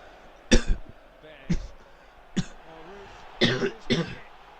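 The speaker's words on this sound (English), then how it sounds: "just as I cough my lungs up" Several short, sharp coughs and throat clears in quick succession, close by, separated by brief pauses.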